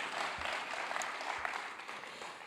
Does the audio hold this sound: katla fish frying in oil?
no